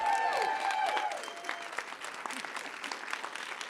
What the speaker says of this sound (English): let's give it up one more round of applause for our MC